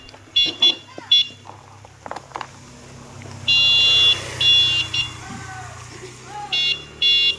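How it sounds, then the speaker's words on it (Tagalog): A vehicle horn honks repeatedly in short bursts and longer blasts, fairly close, with an engine rumbling underneath and some background voices. "Panay ang busina eh."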